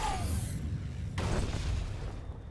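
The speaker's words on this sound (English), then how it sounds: "There's the delayed explosion sound effects." A delayed explosion effect in the video game Star Wars: The Old Republic: a deep, rumbling boom that swells near the middle and lingers as a low roar, loud and alone without talk.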